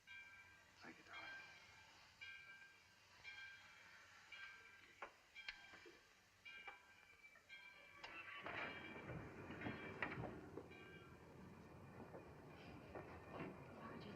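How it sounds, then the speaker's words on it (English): Train moving in a 1941 melodrama scene, rumbling and clattering on rails and rising to a louder rushing roar in the second half, with faint voices over it. "the train's moving."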